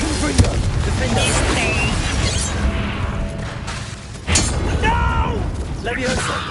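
Confringo spell blasts in Hogwarts Legacy go off as sharp bursts and booms amid busy combat clatter, loud and close, with a voice shouting under the effects.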